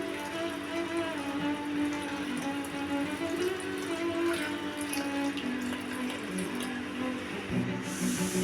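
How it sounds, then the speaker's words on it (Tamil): Water is poured into a cooking pot over a quarter kilo of cut broccoli, making a continuous trickling, splashing stream at moderate level with faint clinks, alone without talk. "மூழ்கிற அளவுக்கு தண்ணி ஊற்றி"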